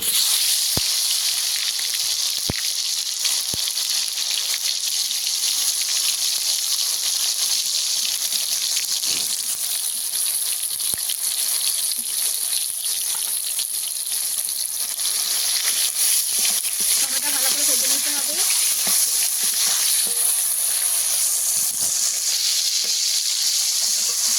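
Nigella seeds and chopped tomato sizzle steadily in hot oil for a fish dish, a loud continuous frying hiss with brief crackles and no talk.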